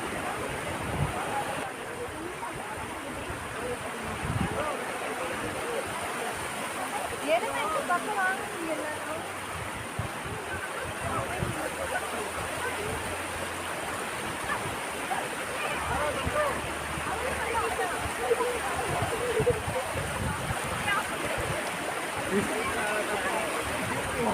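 Steady rushing river water in Valparai, Tamil Nadu, fills the scene with a continuous broadband roar, while indistinct voices occasionally come through faintly underneath.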